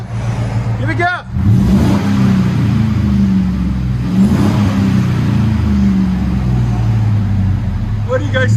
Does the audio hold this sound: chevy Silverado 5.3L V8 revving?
yes